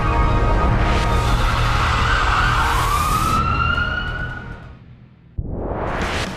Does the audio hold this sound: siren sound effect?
yes